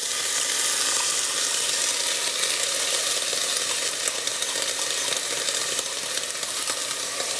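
Rinsed lentils sauté in a hot pan for a lentil and white asparagus risotto, a steady close sizzle with faint crackles running evenly throughout, no voices.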